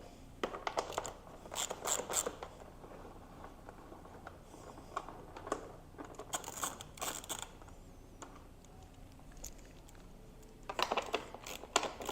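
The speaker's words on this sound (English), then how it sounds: "Begin by removing the seat bolts with a 10mm socket." Socket wrench removing seat bolts on a 2023 Kawasaki KX450 SR dirt bike: quiet bursts of fast ratcheting clicks in several separate runs, close but faint, with gaps of near silence between.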